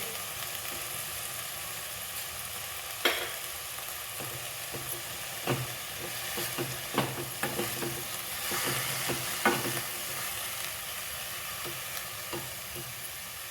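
Fenugreek (methi) greens cooking in a pan, a soft, steady sizzle broken by scattered scrapes and taps of stirring, with no voices.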